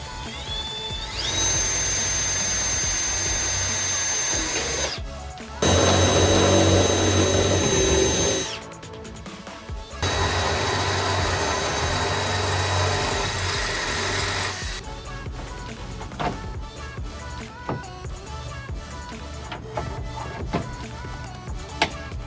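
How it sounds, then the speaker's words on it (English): A power drill bores new mounting holes on a 1992 Honda Civic Si, with several sustained, loud whining bursts separated by brief pauses, then quieter scraping and rattling as the work continues. "I'm going to have to drill out some new holes so they will work"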